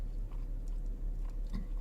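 Someone bites and chews a fresh, charred pita filled with crunchy onions and tzatziki sauce, producing close, moist crunching and chewing sounds with a few sharper crunches against a steady low background.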